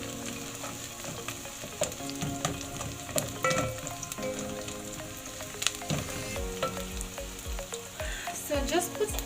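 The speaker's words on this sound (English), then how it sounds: "You're looking for like a translucent or kind of a sauteed onion." Onions sauté in a hot pan with a steady, close crackling sizzle, broken by occasional stirring scrapes and clicks, and no one speaks.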